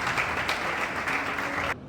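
A crowd applauds steadily, a dense wash of clapping that cuts off abruptly near the end.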